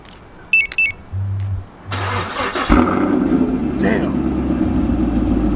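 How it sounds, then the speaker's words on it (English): A Chevrolet Camaro SS engine cranks and fires with a loud, close roar, then settles into a steady, deep idle rumble. Someone speaks briefly before the start. "I'm going to start the car again"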